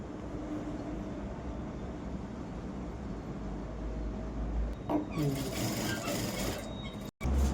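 A sewing machine stitching a circle palazzo seam, a steady faint mechanical whir running continuously, with a few clicks and handling noises near the end while someone speaks over it.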